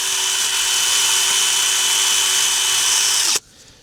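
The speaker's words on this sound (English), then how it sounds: "just try and go around them with a wire brush on a drill, clean the threads up" A loud, steady high-pitched whirring drill with a wire brush cleans rusty exhaust threads on a Drott, running continuously for over three seconds, then cutting off abruptly, leaving faint background noise.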